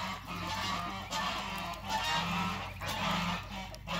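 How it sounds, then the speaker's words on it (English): Several young goslings on a farm make repeated soft honks and peeps in short overlapping bursts, close by and fairly steady, with no talking over them. "let's take one last look at these goslings"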